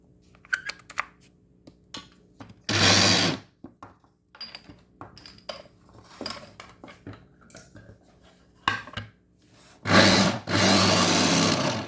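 Short bursts of a kitchen blender whirring as it mixes ingredients for a sauce for oven-baked fish, two loud buzzing pulses separated by clattering and tapping sounds.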